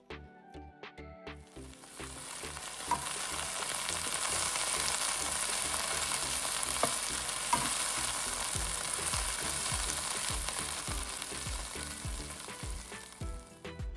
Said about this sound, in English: So this step of frying the okra is very important because it removes the sliminess.